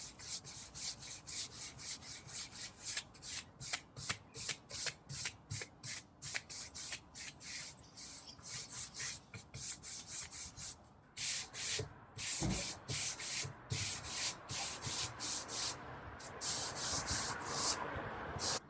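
A brush working a second coat of wash onto pine Ikea Hemnes furniture, with repeated close scratchy back-and-forth strokes in a steady rhythm, brief pauses between runs and no talking.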